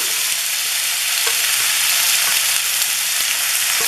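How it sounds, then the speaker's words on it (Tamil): Diced potatoes frying in hot oil with mustard seeds, a steady close sizzle with occasional small pops and spatula stirring, no talk. "பொடியாக பண்ணி வச்ச உருளைக்கிழங்கு இருக்கு இல்லைங்களா, அதை வந்து கொட்டிடலாம்."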